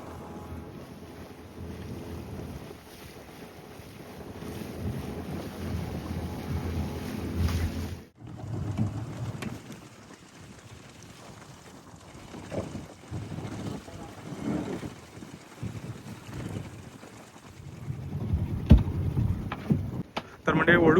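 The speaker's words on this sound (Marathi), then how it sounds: "मस्त 2 कांदळवनच्या मसून आमची बोट चालली आहे" A small fishing boat moving through a mangrove creek in the Konkan, with steady engine and water rumble, wind buffeting the microphone, and a brief gap midway, close and moderately loud throughout.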